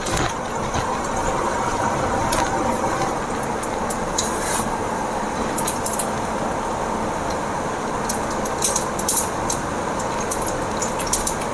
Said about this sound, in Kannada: 1 ಟೀ ಸ್ಪೂನ್ ಸಾಸಿವೆ, ಸಾಸಿವೆ ಚಿಟ್ಗುಡ್ತಾ ಇದೆ.